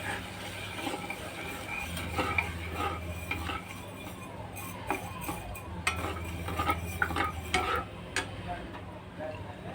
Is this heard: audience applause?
no